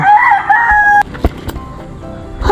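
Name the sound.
chickens crowing and clucking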